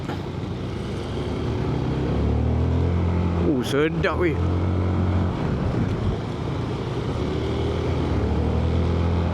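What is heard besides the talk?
150cc scooter riding uphill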